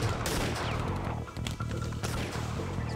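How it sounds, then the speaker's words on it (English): A platoon of Japanese gunmen fires from below on a jungle hillside: a loud volley of overlapping gunshots with sharp cracks and crashing impacts, close and continuous. "a platoon of Japanese gunmen opens up on him from below."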